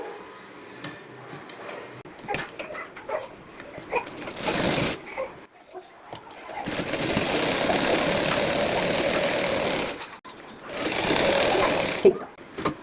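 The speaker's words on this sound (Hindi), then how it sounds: "अब हम इस पे सिलाई करेंगे।" A close, loud sewing machine stitches palazzo pants in several runs: a short one, then a long burst of about three seconds, then another of roughly a second and a half, with brief handling noises between them. No one speaks.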